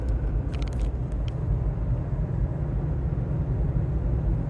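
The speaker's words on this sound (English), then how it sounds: "the sunroof is closed in this clip, but you can still hear the wind pretty good" Steady broadband wind roar and low road rumble fill the cabin of a Toyota Tacoma with a budget roof rack, cruising at 55 mph with the sunroof closed, continuous and even, with a few faint clicks near the start.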